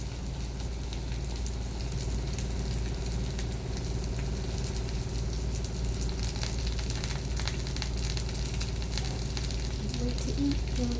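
Salmon patties sizzle and crackle steadily in a hot pan, a dense continuous frying hiss that stays close and even throughout.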